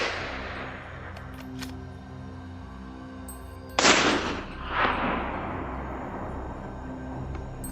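A rifle shot rings out during a wild boar hunt in swampy brush: one sharp, loud report midway, followed by a softer echoing burst, over a steady low outdoor hum.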